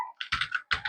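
A short run of keystrokes on a computer keyboard as a business name is typed, several quick clicks in a loose rhythm, close and distinct with no talking.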